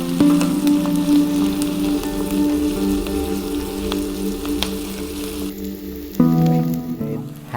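Three cloves of fresh garlic sautéing in a pan for hamburger rice, a steady close crackling sizzle with a low background hum and a few clinks near the end.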